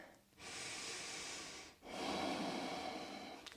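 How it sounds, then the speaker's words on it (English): Slow, audible breaths during a gentle yoga flow: a long airy inhale then a fuller exhale, close and soft with no talking. "And we're breathing here."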